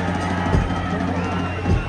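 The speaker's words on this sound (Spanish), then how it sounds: "la gente que le aplaude y anima a Armando Escobar" A stadium crowd at a Mexican football match between Atlante and Tapatío applauds and cheers. The broad, continuous roar of many voices sits under a commentator's talk, with brief swells.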